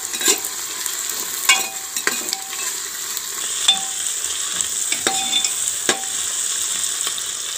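Crushed garlic and ginger sizzle steadily in oil inside a pressure cooker for tari chicken, a bright continuous hiss punctuated by sharp metallic taps and scrapes of a spoon.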